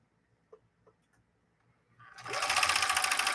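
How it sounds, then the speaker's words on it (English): A Viking Husqvarna 19E sewing machine starts up after a few faint clicks and runs a straight stitch, its rapid whirring hum close and loud, steady for the final second and a half. "let's actually put this machine to work. All right, straight stitch to start"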